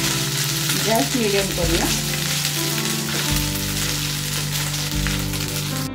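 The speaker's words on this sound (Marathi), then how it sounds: "फरसबी आपल्याला तेलातून परतून घ्यायची।" Green beans (farasbi) sauté in hot oil, a constant close sizzle with stirring scrapes, while a voice speaks briefly over the frying.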